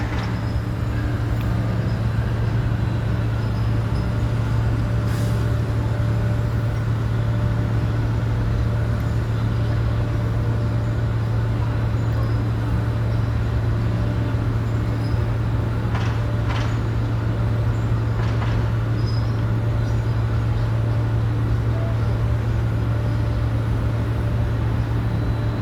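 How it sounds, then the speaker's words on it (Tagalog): A boat engine drones steadily and loudly at a port as the vessel departs, a constant low rumble with faint clanks, and no voices. "so start engine na rin sila"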